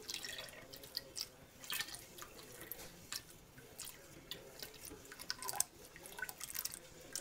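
Lye water drizzled in a thin stream into oils while being stirred for soap making, heard as faint, scattered drips and small liquid splashes at an uneven pace.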